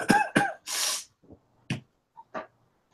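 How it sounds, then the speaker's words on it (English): A person in a medieval fantasy game coughs twice in quick succession, followed by a longer hissing breath and a few fainter coughs and throat sounds, close and clear with no talk. "Oh, it sounds like a bad cough."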